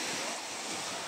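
Sea waves wash onto a beach in a broad, continuous roar of surf, loud and close with a wind-like hiss.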